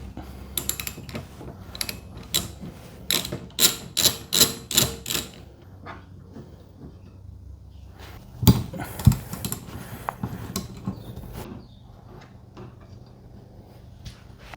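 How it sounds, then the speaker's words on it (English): A socket wrench works a 12 mm nut on a Suzuki Jimny. Quick ratcheting clicks come in bursts up close, then quieter clinks and a few metallic knocks as the tool is handled. "To remove this nut, you're going to use a 12 socket."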